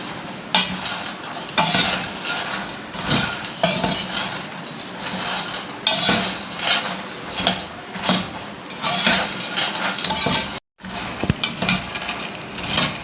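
Whole dry fruits and nuts frying in a pan for panjiri, a steady loud sizzle with repeated scraping stirs and occasional clinks of a spoon against the pan, with a brief gap near the end.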